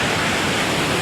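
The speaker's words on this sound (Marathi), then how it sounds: "मंडळी बघू शकता कासमालला आला वॉटरफॉलला." Waterfall at Kasmal in the Konkan, a steady, dense rush of falling water filling the whole short stretch, close and loud with no voices.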